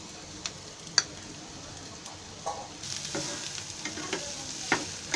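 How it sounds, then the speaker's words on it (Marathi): Onion frying in oil in a pan for tempering stuffed bitter gourd, a quiet sizzle with scattered clicks and scrapes of stirring, swelling slightly louder partway through. "कांदा थोडा लाल होईपर्यंत आधी पहिला भाजून घ्यायचा"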